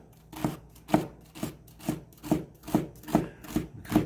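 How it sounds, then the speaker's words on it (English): A knife chops celery finely on a cutting board for fried rice, with about nine crisp, evenly spaced strokes at a steady rhythm, close and fairly quiet, no talking. "we'll start by cutting up our celery"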